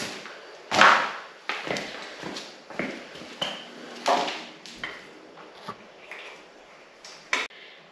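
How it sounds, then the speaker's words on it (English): Front fender and headlight being fitted to a Mokwheel fat tire electric bike: scattered close knocks, clicks and light thuds of parts and tools, irregularly spaced with quiet gaps between. "I got the front fender and headlight installed."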